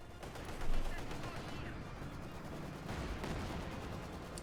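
Gunfire and machine-gun bursts in a Company of Heroes 2 match (OKW versus Soviet), a dense, continuous wash of shots and battle noise with a louder burst early on, mixed under a commentator's voice.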